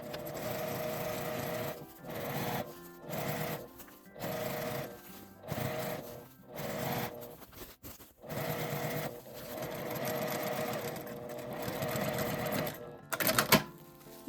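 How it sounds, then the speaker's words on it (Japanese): Sewing machine stitching a full loop around the top edge of an insulated drawstring lunch bag, about two centimetres down, running in repeated loud bursts separated by short pauses, close and alone. "上端から2センチのところを1周縫います。"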